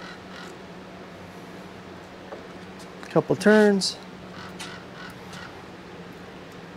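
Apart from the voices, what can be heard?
crow cawing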